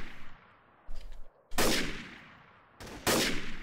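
Two loud, sharp gunshot blasts in the game Trouble in Terrorist Town ring out about a second and a half apart, each trailing off in a reverberant decay, with a fainter pop before them.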